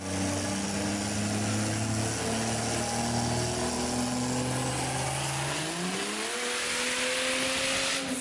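A turbocharged Chevrolet Trailblazer engine runs on a dyno, holding a loud, steady drone under strong broadband roar, then climbing in pitch near the end as it shifts, with no talk.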